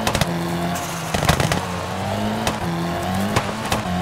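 A Mitsubishi Lancer Evo IX rally car in a WRC video game on a Welsh stage: a loud, sustained engine drone punctuated by sharp crackles and pops, with tyre noise layered throughout.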